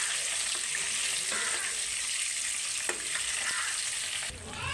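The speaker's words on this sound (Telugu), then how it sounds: "కొంచెం వేగేటప్పుడే పసుపు, సాల్ట్ వేసి వేయించుకుందాం." Food fries in a pan with turmeric and salt, giving a steady, loud, close sizzle with occasional stirring scrapes, then a brief dip near the end.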